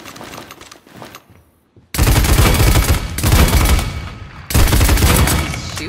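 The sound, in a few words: weapon gunfire in the video game Paladins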